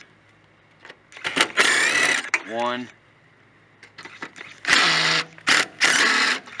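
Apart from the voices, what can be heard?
power drill removing 7/16 bumper filler screws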